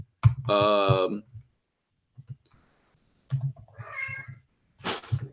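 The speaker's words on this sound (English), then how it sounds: "What are you doing to the cat? He keeps wanting to come in and out." A cat meows at a door while wanting to go in and out, two clear drawn-out cries a few seconds apart, close by and fairly loud, with faint clicks between them.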